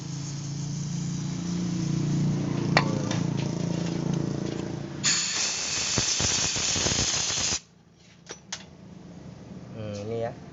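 Spray cleaner hissing onto the throttle body of a Honda Vario 125 scooter, a loud burst of spray after a stretch of engine-like rumble, followed by short squirts and clicks.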